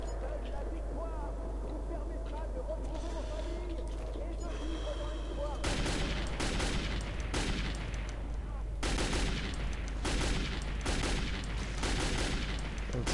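Rapid bursts of gunfire in the Metro 2033 video game, loud and repeated in clusters against a dense background of game sound, with someone talking over parts of it.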